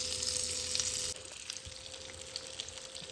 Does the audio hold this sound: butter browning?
yes